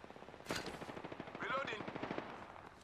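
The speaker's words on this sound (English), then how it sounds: "I am taking fire." Rapid automatic gunfire from an Apex Legends match, with dense bursts of shots following a sharp blast, loud and close, mixed with faint voices and game effects.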